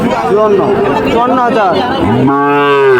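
A Sahiwal cow at a cattle market gives a long, loud, close moo near the end, following a stretch of people talking over a murmuring crowd.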